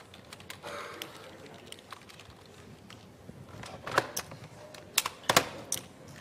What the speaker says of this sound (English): Silly keyboard.